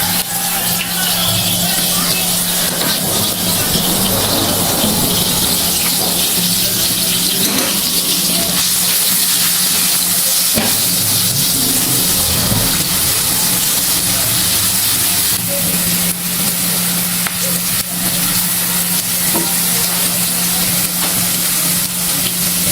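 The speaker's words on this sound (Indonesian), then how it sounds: "Tumiskan bawang putih dan bawang merah cincang, juga irisan cabai rawit hijaunya." Minced garlic and shallots with sliced green bird's eye chili sautéing in a pan, a steady, loud hiss and sizzle running the whole time with faint clatter now and then.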